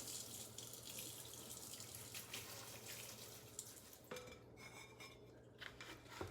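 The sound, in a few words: water running to wash dusty houseplant leaves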